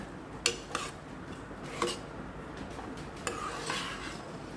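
Cashew-based paste gravy goes into a pan for an aloo matar curry and is stirred, with repeated scraping knocks of a spoon against the metal over a soft background sizzle.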